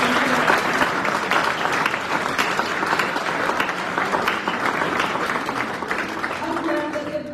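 A crowd of audience members applauds steadily and loudly, a dense, unbroken wash of clapping that lasts throughout with little change.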